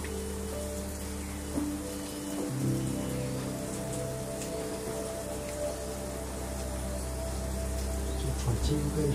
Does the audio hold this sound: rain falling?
yes